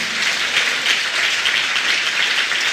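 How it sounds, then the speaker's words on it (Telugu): A church congregation applauds at a new church opening in Chennai, steady dense clapping filling the room evenly throughout, with no voices rising above it. "చప్పట్లు కొట్టి అందరూ సంతోషంగా,"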